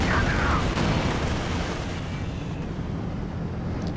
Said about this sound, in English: Got a Katyusha, by the way